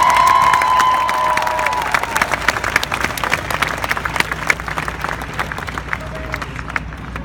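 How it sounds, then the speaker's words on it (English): Audience applause and cheering at a Surgeon General's speaking event, a dense wash of clapping with shouts and whistles mixed in, loud at first and slowly easing. "deserves a round of applause."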